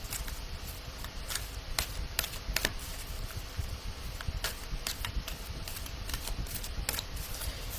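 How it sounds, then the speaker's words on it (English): Oracle cards are shuffled by hand, a soft, steady stream of papery riffles and flicks with brief louder slaps, close and quiet with no talking. "All right, Regina, let's pull a card for you."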